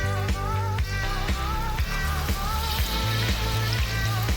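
Bitsu bitsu dough fries in hot oil with a dense, constant sizzle and crackle, close and steady, no talking.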